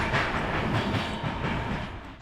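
Train rolling into Bucharest Gara de Nord station at the end of a long Balkan journey, a steady rumble of wagons with faint clickety-clack over the rails, moderately loud and continuous, no voices.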